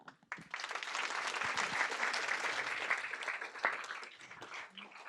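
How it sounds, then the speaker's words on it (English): Applause from the audience at a school board meeting: a burst of many people clapping that starts abruptly, holds as a dense, even patter for several seconds and thins slightly toward the end. "One more round of applause."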